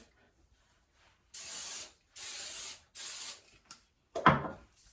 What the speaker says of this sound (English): So what I'm going to do is go in and give it one final spray.